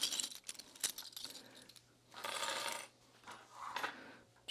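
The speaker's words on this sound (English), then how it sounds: "let me get these clips out of the way" Small metal clips rattle and clink as they are pulled off a Nooga convertible bag, in a few close, light bursts of jingling with quiet gaps between.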